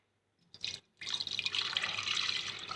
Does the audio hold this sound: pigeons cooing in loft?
no